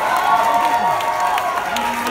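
Audience at a rock concert at the Hi Hat in Los Angeles clapping and cheering for the band, a steady wash of applause and crowd noise with some tonal ringing from the stage underneath.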